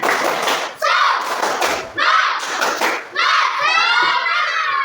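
A group of children in a classroom claps together in fast rhythmic bursts while chanting a clapping cheer, with short pauses between each round of clapping.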